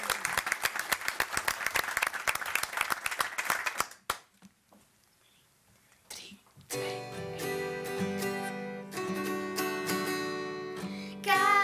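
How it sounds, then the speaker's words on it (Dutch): An audience at a village hall talk show applauds a young band with quick, dense clapping that stops abruptly, followed by a few seconds of near silence before live music starts. "Een applaus."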